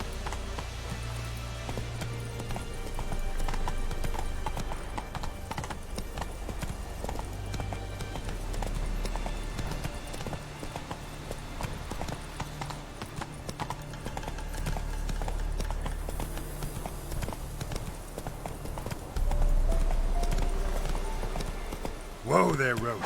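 A horse gallops in The Witcher 3, a steady rapid drumming of hooves under game music, with a voice speaking over it and a sharp burst near the end.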